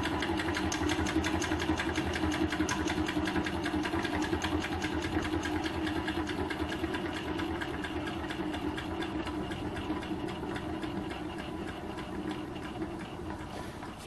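A homemade gamma-type Stirling engine built from a CPU cooler runs steadily, giving a continuous mechanical hum with a fine rapid ticking rhythm at close range, the level holding even throughout with no talk.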